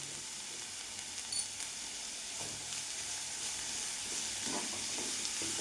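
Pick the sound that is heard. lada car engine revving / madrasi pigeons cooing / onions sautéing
onions sautéing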